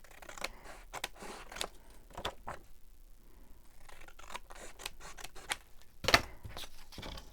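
Scissors snipping through printed paper, a series of crisp close cuts in uneven bursts with short pauses between them.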